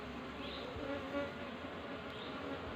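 Apis cerana honey bees at a hive kept by a beekeeper give a soft, continuous buzzing drone, faint and even, with no voices and only slight swells in loudness.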